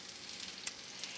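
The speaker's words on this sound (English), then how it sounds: "I'm going to add some of my green onions because I want them just to start caramelizing a bit." Green onions sizzling in a frying pan: a steady, close crackling hiss with small pops scattered through it, continuous and fairly quiet.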